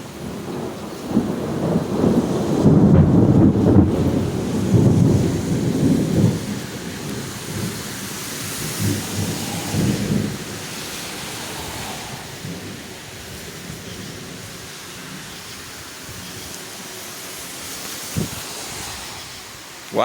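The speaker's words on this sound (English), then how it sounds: "Oh, there's lightning again." A night thunderstorm in a Kentucky yard: a loud rolling thunder rumble swells early and fades slowly over steady hissing rain, with a sharp crack near the end, no voices heard.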